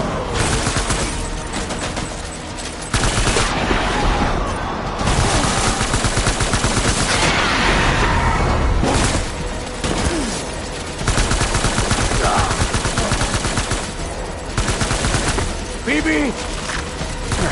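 Heavy, sustained gunfire in Death Stranding: loud bursts of rapid automatic fire that start and stop, mixed with booms and shouting voices, close and dominating throughout.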